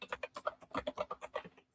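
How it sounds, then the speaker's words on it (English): Quick, quiet keystrokes on a computer keyboard, about a dozen light taps in rapid, slightly uneven rhythm, close by with nothing else behind them. "Emily, if you could type at thetechrecruiters.com."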